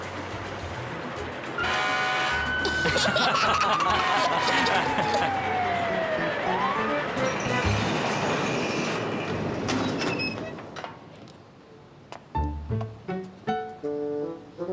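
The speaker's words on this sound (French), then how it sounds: "Il déclenche la sirène qui est sur le toit du camion." A loud cartoon siren on a truck roof wails and slides downward over heavy rumbling, then cuts off, leaving scattered musical notes and thumps.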